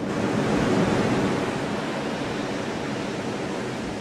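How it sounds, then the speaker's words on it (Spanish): Summer sea waves washing onto a beach on the Bahía de Cádiz, a continuous broad roar of surf, loud and close, swelling slightly at the start before settling to a steady hiss, with no voices. "En verano el mar acaricia la playa con sus olas y produce una música muy peculiar."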